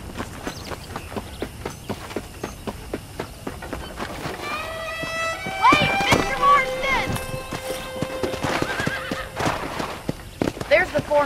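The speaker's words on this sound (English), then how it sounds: "The horses are saddled up over here." Saddled horses in the Red Dead Redemption western game neigh and whinny loudly midway, over steady clip-clop of hooves and footsteps throughout, with speech mixed in.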